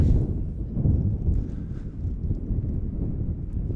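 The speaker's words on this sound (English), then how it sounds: "The theme for the day is going to be windy. Very, very windy" Low, rumbling wind buffets the microphone in uneven gusts at a high school softball game, a steady blustery roar with no voices.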